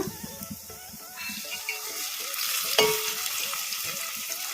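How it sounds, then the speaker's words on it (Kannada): Chopped tomatoes fry and sizzle in a pan for coconut sambar, a steady close hiss with soft scraping stirs throughout; no voices. "ಈಗ ಟೊಮಾಟ ಮೆತ್ತಗಾಗೋವರೆಗೂ ಫ್ರೈ ಮಾಡ್ಕೊಂಬಿಡೋಣ"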